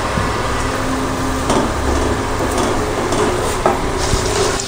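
Butter and a little white oil heating in a pan on a gas stove, a steady low sizzle with occasional light clinks and scrapes, close and continuous.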